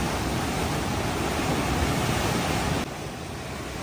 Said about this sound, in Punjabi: ਦਰਿਆ ਦੇ ਵਿੱਚੋਂ ਕਿੰਨੀ ਸਪੀਡ ਨਾਲ ਪਾਣੀ ਜਾ ਰਿਹਾ ਆ